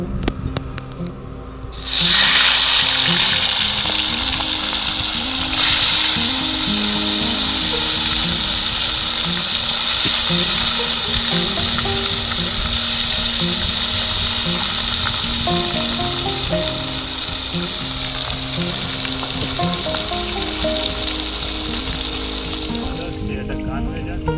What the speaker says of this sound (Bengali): গরম হয়ে গেছে, এবার মাছগুলো ভেজে নেব।